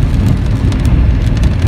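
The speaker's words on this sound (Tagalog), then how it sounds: "Maulan dito sa amin ngayon." Rain falls during a typhoon, a loud, continuous heavy hiss over a low rumble that stays steady throughout.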